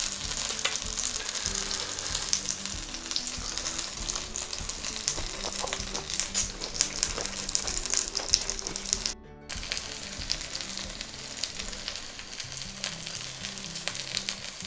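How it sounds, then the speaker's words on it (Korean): Pork belly (samgyeopsal) sizzles and crackles steadily in a pan, a dense continuous frying hiss with a brief dropout near the middle, no voices. "지금 삼겹살을 굽고 있는데요"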